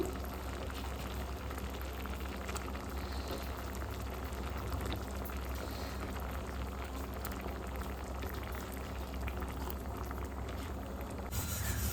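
A pot of chicken sambar (kaimasaru) bubbles at a rolling boil as dough dumplings are added one by one, a dense, continuous close burble with no voices.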